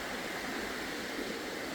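River water in Glen Nevis rushes steadily past, a dense broadband hiss of flowing current with no breaks, close and moderately loud, alone without voices.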